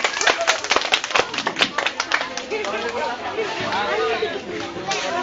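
Children at a youth outreach event clap in loud, sharp, uneven bursts, then the clapping thins into close chatter and lively voices.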